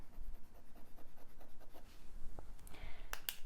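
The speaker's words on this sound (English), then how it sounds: "so here we go for the writing sample. This is the Jinhao 10 fine nib" A Jinhao 10 fountain pen with a fine nib writes on paper in soft, close, scratchy strokes. Short rhythmic scrapes lead to a few sharper clicks near the end, all quiet.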